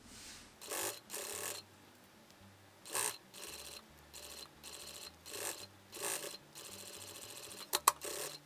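A sewing machine stitching a safety seam on fabric, with short intermittent runs of whirring stitches separated by quiet pauses and a couple of sharp clicks near the end, heard close up.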